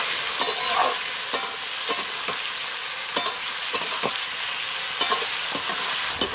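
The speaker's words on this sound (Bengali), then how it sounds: "তাই হালকা নেড়ে চেড়ে নেব।" Poppy seeds frying in a pan while being stirred, with a steady sizzle under repeated scraping and tapping of a utensil against the pan, close and continuous with no voices.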